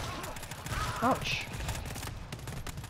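Gunfire in the co-op shooter GTFO: steady rapid shots crackle through a noisy fight, with voices talking over the shooting.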